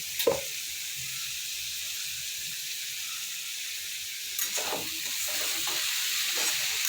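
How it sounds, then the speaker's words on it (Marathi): Vegetables sizzle as they are stir-fried in a pan, a soft continuous frying hiss with a few sharp scraping stirs near the start and again toward the end. "आता ही भाजी परतून झाल्यावर मस्त अशी वाफर होणार आहे"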